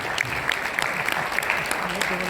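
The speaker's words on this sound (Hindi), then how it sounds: "एक बार इनके लिए ताली बजाते हैं" An audience at a naturopathy seminar in Delhi claps, a steady stretch of brisk applause over a busy hall, with a voice talking over it.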